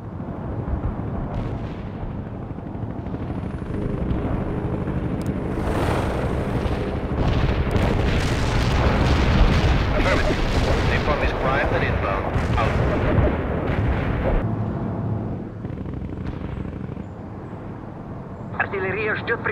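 Heavy artillery barrages and explosions in the video game World in Conflict roll on continuously in dense, booming waves, with voices talking over the battle.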